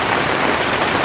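Heavy, nonstop rain pours steadily onto a garden, a dense, even hiss of downpour close by that fills the whole moment without a break.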